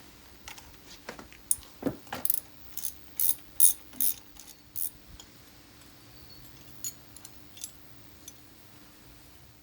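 A ratchet clicks in quick, close bursts while removing the throttle body support bracket on a Harley-Davidson, several clusters of sharp pawl ticks followed by a few scattered clicks and quiet handling noise.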